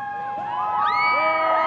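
A crowd at a medieval fair joust cheers and whoops for the knights in a loud, continuous burst, with high shouts and voices rising over the general roar.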